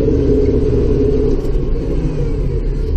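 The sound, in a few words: tractor engine revving while clearing snow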